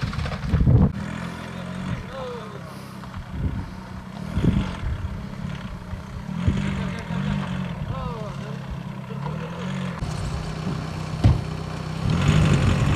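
A vehicle engine revs on a rough road to the Nemrut crater, a rumbling motor with rising bursts beneath frequent shouting voices, moderately close and uneven.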